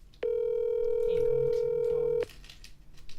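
A telephone ringback tone sounds on an outgoing call: one steady, loud electronic tone that holds for about two seconds and then cuts off, leaving faint background noise.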